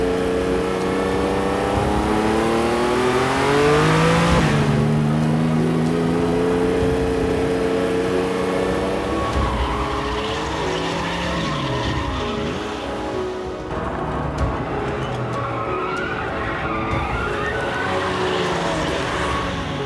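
A RUF CTR Yellowbird sports car driving hard, its engine droning and revving steadily at close range for the whole stretch, pitch rising and falling through gear changes, with no talk over it.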